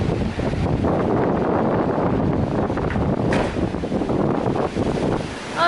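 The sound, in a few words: wind blowing on a cruise ship deck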